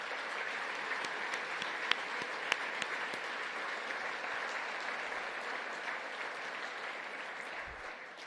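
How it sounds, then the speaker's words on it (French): Sustained applause from an audience at a Montreal business gathering, dense steady clapping with a few sharper individual claps standing out, continuing without speech and easing off slightly at the end. "Je pense qu'il mérite également, lui aussi, une belle main d'applaudissements."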